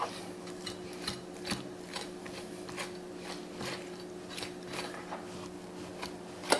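Scraping fat from the inner wall of a hog stomach yields soft, irregular rasping scrapes and small ticks, close but faint, over a low steady hum with no talk.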